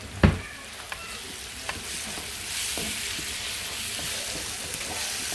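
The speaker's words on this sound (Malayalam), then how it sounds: "ഇപ്പം ഇത് നന്നായിട്ട് വഴണ്ടു വന്നിട്ടുണ്ട് ഉണ്ടല്ലോ." Masala and chicken masala sizzle steadily in hot oil in a pan, opening with a sharp stir and a few scattered scrapes over the continuous frying hiss, close and with no talking.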